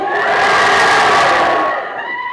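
Loud massed shouting and cheering from a crowd at the Eagle trailer launch event swells and holds for about two seconds, then eases off slightly at the end.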